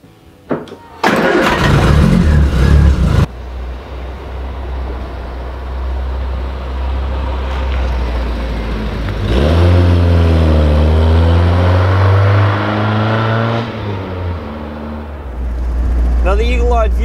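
A Triumph Spitfire's engine cranks briefly, catches and settles into a loud, close idle, then climbs through a couple of rising revs before dropping back, with a short voice in the background.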